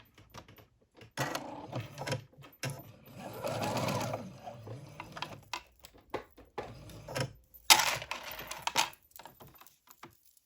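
A sewing machine bastes the bodice of a dress, its needle running in bursts of rapid stitching broken by short pauses, close and steady at moderate loudness with a brief clack of handling along the way.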